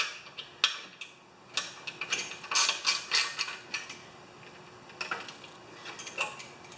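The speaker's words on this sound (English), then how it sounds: "I'll just put it back on right now with a deep socket." A deep socket wrench ratchets a stud back onto a Honda mower engine, making quiet, irregular clicks and short ratcheting bursts spread over several seconds, close by with no talking.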